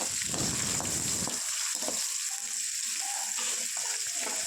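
Steady oily sizzle of chopped large onions sautéing in oil in a pan, with a brief stir near the start and a continuous crackling hiss throughout.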